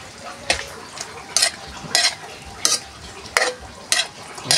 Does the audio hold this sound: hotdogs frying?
yes